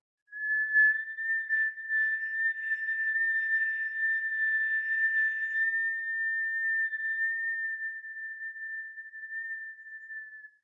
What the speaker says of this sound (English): You're inhaling to whistle.